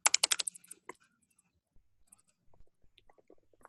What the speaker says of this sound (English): Let me type it up so I can tell you.